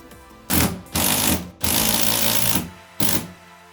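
A screw is driven into a wall to hold a pedestal sink bracket, with a power driver whirring in four close, loud bursts of varying length separated by brief pauses.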